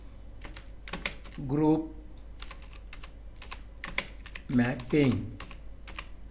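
Steady clicking of keys on a computer keyboard while entering data in Tally Prime accounting software, light rapid taps continuing under a voice speaking in short phrases.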